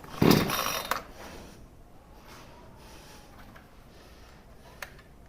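A single pull on the starter cord of a Garwinner 62cc chainsaw makes a short, loud ripping burst close by. Near-silence follows because the engine does not catch, with one faint tick later.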